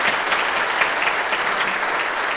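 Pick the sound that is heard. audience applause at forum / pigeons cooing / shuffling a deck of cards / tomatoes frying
audience applause at forum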